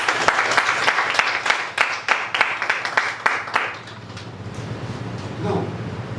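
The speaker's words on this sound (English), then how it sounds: "Please give a big round of applause." Audience at a Toastmasters club meeting applauding the venue host, a crowd clapping briskly for a few seconds before the claps thin out and fade, leaving a quieter room with faint murmuring.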